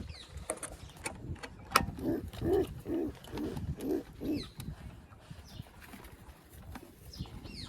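A roller pigeon gives a short run of low, throaty coos close by, with some faint clicks and rustling around it.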